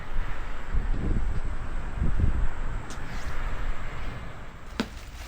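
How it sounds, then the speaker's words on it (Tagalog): Strong wind buffets the microphone with steady low rumbling gusts, a few heavier bursts standing out, with no voices present. "Lakas ng hangin."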